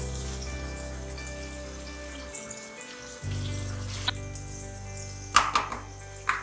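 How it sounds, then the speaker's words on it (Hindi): Water poured into a simmering fish curry (machli ka salan) in a home kitchen, a steady close gurgling pour with faint sizzling and a few clinks of utensils, no talk. "पानी अंदाजे से शामिल कर लें"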